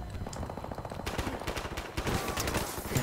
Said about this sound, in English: Now they all start shooting themselves.